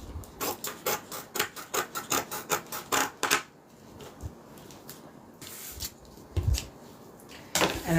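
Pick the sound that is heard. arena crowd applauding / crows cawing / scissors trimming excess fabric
scissors trimming excess fabric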